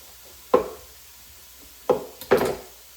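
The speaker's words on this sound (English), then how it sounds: "gonna slice up a pepper." A knife slices through a pepper on a cutting board in a home kitchen: three crisp chopping knocks, the first alone and the last two close together, each short and near with quiet between them.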